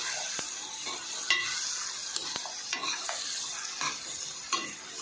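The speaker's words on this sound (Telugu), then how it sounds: "కలుపుకొని ముక్క అయితే వేగనివ్వాలి ఫ్రెండ్స్" Spiced pieces stirred and fried in a pan, with a steady close sizzle running throughout and sharp clinks of the spoon against the pan every second or so.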